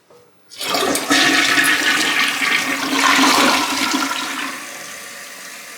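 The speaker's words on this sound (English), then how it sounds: "First flush." A newly installed toilet flushes loudly and close by, a sudden rushing surge of water that holds steady for several seconds and then eases into a quieter refill.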